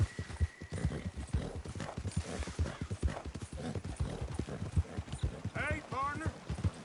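Horse hooves clip-clopping in Red Dead Redemption 2, a steady rhythmic trot of close, fairly soft hoofbeats running throughout, with a brief snort or whinny near the end.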